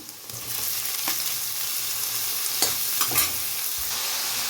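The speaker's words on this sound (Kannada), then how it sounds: "ನೋಡಿ, ಈರುಳ್ಳಿ ಹಾಕ್ಕೊತಾ ಇದ್ದೀನಿ. ಈಗ ಅದು ಫ್ರೈ ಆಗಲಿ." Onions and capsicum fry in oil in a pan with a steady, close, bright sizzle and hiss, broken by a few soft stirring scrapes and knocks.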